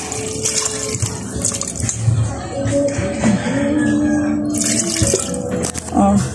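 Water poured into a cooking pot of fish paksiw with vinegar, a steady running splash with dripping, fairly close, with faint kitchen clatter.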